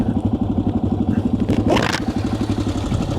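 A second motorcycle idles and revs nearby on a dirt stretch of the Transamazônica in Piauí or Maranhão, a steady pulsing engine putter with a brief louder rev midway.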